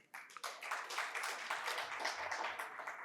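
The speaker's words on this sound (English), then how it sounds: "give a round of applause for yourself for making this effort" Conference audience applauding after a keynote, dense sustained clapping from a crowd that starts abruptly and carries on steadily at moderate volume, with no talking over it.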